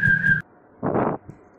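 A sink drain pipe whirled overhead gives a steady whistling tone for under half a second, followed by a louder, rougher whooshing burst and then a faint tail. No talking is heard.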